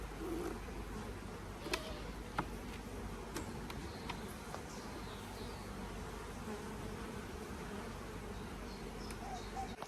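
Honeybees from a tiny newly made colony with a fresh queen, a faint continuous buzz that holds steady throughout, with a few light ticks and taps against it.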